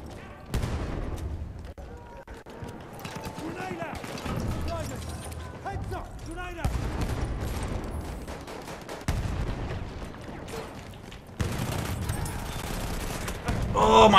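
Grenade blasts in Battlefield 1, the French DLC, played on PS4 Pro: several loud, broadband explosions land a few seconds apart amid continuous nearby gunfire and battle noise, with voices faintly underneath.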